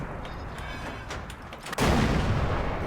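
A tank cannon fires in World of Tanks, a sudden heavy boom that cuts through low ambient battlefield noise partway in and then rumbles on loudly to the end.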